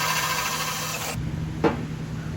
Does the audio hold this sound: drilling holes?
yes